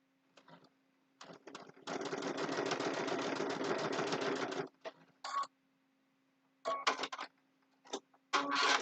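A sewing machine stitches a quilted Christmas table runner, running in a steady whirring burst of about three seconds, then stopping and starting in several short spurts close by.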